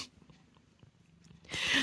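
A house cat sounds faintly indoors over quiet room noise, then gives one louder, breathy burst at the very end.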